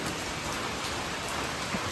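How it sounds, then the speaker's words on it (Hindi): Heavy rain pours steadily in a dense, even hiss that fills the whole moment, close and loud with no pauses. "बारिश बहुत तेज़ हो रही है"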